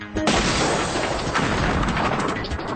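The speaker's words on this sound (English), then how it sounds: "their new generation of high-powered flashbangs, the 400 series, is so advanced, they don't call them flashbangs anymore" An ALS 400 series high-powered flashbang stun munition detonates in a single sharp, loud blast, followed by a dense roaring wash of noise that sustains for a couple of seconds.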